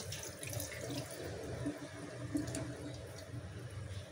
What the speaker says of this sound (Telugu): ఇక ఇలా మంచిగా ఒకసారి ఫస్ట్ నీళ్ళు పోసి కడిగినా కదా